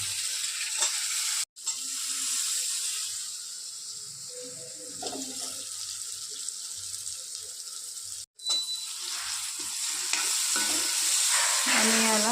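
A spoon stirs eggplant frying in a pan with masala spices, the vegetables sizzling steadily up close while scraping and clinking stir sounds come and go, with brief cut gaps.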